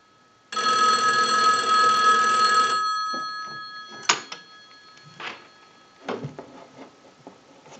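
A single-slot payphone bell rings once from a test analyzer's ring cycle, a loud two-second electromechanical burst, followed by scattered clicks and handling knocks on the workbench.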